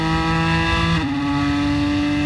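A Ford GT race car engine at Le Mans drones loud and close from inside the car, a steady high-revving tone that shifts down as a gear changes, with no talking over it.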